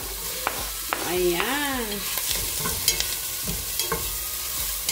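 Ginger sizzles in a pot for Filipino chicken soup (tinolang manok) as a spoon stirs and scrapes, a close, busy frying crackle with a short spoken word over it.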